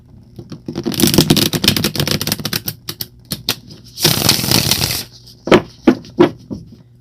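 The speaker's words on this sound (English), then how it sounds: "Shuffling cards is like" Tarot cards are shuffled close up in rapid riffling bursts, one long run, a pause, another dense burst, then a few separate slaps and flicks, crisp and loud with no voice.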